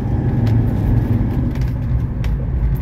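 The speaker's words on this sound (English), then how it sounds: "and you can see the car is accelerating." A 1985 Mercedes 300SD picks up speed on cruise control, with a loud, steady interior drone of engine and road noise and a few faint clicks, and no one talks.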